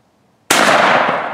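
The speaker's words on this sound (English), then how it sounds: "You gotta pull the trigger, it's gonna eject the bullet, then you gotta pull the trigger for the second target" One sharp, loud firearm shot cracks out of silence during firearms training, then rings off in a short decaying tail.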